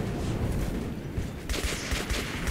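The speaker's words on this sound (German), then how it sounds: "Da kommen halt echt einfach Schüsse." Gunfire from the video game Metro 2033 Redux crackles in dense, overlapping bursts from multiple directions, a continuous rattling fusillade that grows louder and brighter halfway through.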